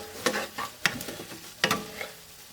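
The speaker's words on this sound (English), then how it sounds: "Now we want to stir that well" Food being stirred in a pot, with a few close scraping strokes and spoon knocks in quick succession over a soft background, fairly quiet and without speech.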